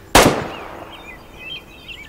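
A single sharp, loud .338 Lapua Magnum rifle shot in the Way of the Hunter game, fired at a black bear, cracks close by and fades into a short echoing tail over faint outdoor ambience.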